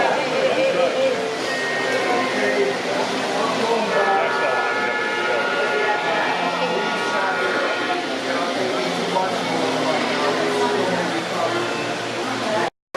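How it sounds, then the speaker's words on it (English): Lionel, MTH, Atlas and American Flyer-style model trains run on a large club layout in the Chicago area, giving a continuous rolling rumble and clatter of wheels on track with a busy crowd murmuring throughout. "with Lionel and MTH, Atlas, and a whole bunch of other companies like American Flyer type trains running on this layout."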